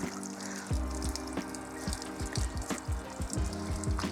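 Steady spray of water from a pressure washer hose nozzle rinsing a car, with splashing and dripping, close by and continuous, with faint intermittent thumps.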